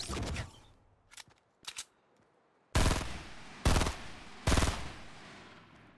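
Rapid bursts of gunfire in a Fortnite match, a couple of short quick volleys followed by three louder, sustained bursts, close and punchy with no voices.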